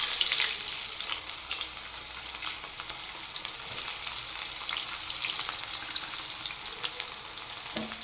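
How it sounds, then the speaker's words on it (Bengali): Chopped onions frying in oil left over from frying potatoes, cooked for a rohu fish and greens dish, produce a soft, even sizzle with light crackles throughout and no speech. "এবার তেলে আমি দিয়ে দেব কিছু কুচিয়ে রাখা পেঁয়াজ"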